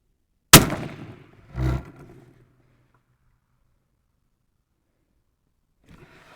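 Long-range rifle shot fired at a 2,200-yard target outdoors: one sharp, loud report followed by a short decay, then a duller second thump about a second later, with silence afterward.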